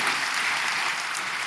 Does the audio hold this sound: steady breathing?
no